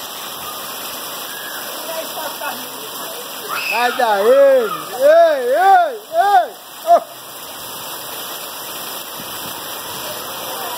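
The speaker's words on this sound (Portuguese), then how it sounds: "Olha que chuva." Heavy rain pours in a constant broadband hiss as a storm brings down trees nearby, while someone speaks and calls out loudly partway through over the downpour.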